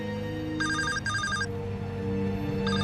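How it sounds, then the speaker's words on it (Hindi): Telephone ringing with an incoming call, two bursts of a bright electronic ring pattern followed by a third starting, loud and close over a steady background hum. "वो देखा आ गया फोन, उसी का होगा।"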